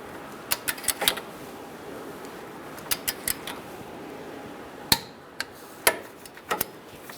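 A torque wrench tightens the control arm pinch bolt on a 2014-2018 Subaru Forester, giving rapid bursts of sharp ratcheting clicks in uneven clusters with a few louder snaps, close up over a quiet garage hum.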